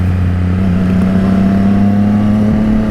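A Triumph Trident 660 motorcycle being ridden produces a loud, steady engine drone with a constant low hum that stays close and unbroken throughout.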